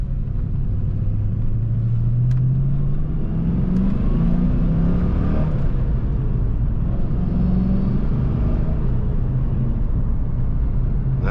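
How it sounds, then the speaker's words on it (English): 1989 Ford Mustang engine through a first gear downshift, a loud close rumble whose pitch rises and falls as revs climb, drop and climb again, steady and alone. "Here's a first gear downshift"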